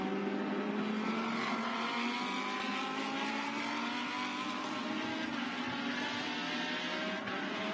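A Lamborghini Super Trofeo race car engine howls steadily on the Shanghai circuit during the 2018 Asia series race, loud and continuous with rising and falling pitch sweeps as cars pass and shift gears.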